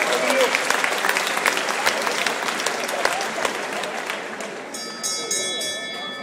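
A crowd at an amateur boxing event applauds the boxer in the blue corner, dense, loud clapping with cheers rising from the hall, followed by a ringing bell-like tone toward the end.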